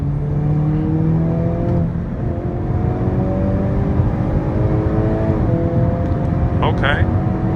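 A Hyundai Kona N accelerates with its NGS boost engaged, the engine note rising steadily through the gears as a loud, close interior drone, with a brief shift partway through.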